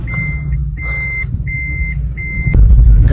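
A car's reverse warning gives four loud, evenly spaced electronic beeps up close over a low engine hum, which then swells into a heavier rumble as it starts moving.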